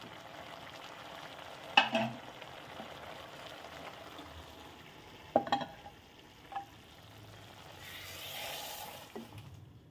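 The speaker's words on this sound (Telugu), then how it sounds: "ఇప్పుడు మనం దీన్ని ఒక ఫ్రైయింగ్ ప్యాన్లో ట్రాన్స్ఫర్ చేసుకొని మంచిగా ఫ్రై చేసుకుందాం" Bitter gourd pieces with mutton fry in a frying pan with a soft, low sizzle, broken by a few sharp clinks and scrapes of a spatula stirring against the pan.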